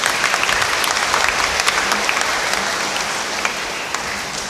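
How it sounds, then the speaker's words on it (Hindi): A church congregation applauds loudly in a sustained burst of dense clapping that tapers slightly toward the end. "आइए हम जोरदार ताली बजाते हुए उनका धन्यवाद करें।"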